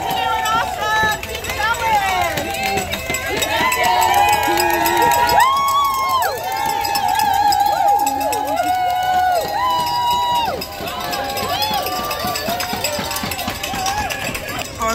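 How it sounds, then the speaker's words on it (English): Team members cheering during a charity walk at Disneyland, a lively crowd of shouting and whooping voices with whistles and cowbell-like clanks, loud and close throughout. "Some other team members were cheering on us."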